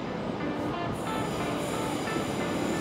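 A London Northwestern Railway train approaches Liverpool Lime Street station as a steady, loud rumble of rolling wheels and engine noise that fills the whole stretch, with no voices.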